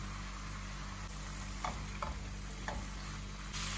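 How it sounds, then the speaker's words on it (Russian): Mushrooms and onion frying in olive oil in a pan, a quiet steady sizzle with a few soft scrapes and clicks of stirring, fairly faint and without speech. "Перемешали и обжариваем дальше."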